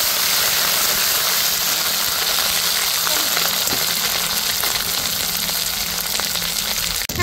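Ginger paste and cumin paste frying in a pan, a dense steady sizzle filling the space, close and loud with no break.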